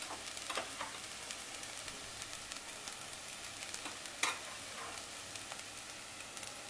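Poha being stirred in a pan after a ground mix of roasted cumin, fennel and coriander goes in, a soft steady sizzle with scattered scraping taps of the spoon, close and quiet, one sharper clack near the middle.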